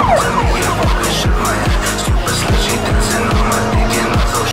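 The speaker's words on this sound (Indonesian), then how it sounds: "ini mobil polisi" A loud, close police car with repeated rising and falling engine revs and a siren-like wail, no talking.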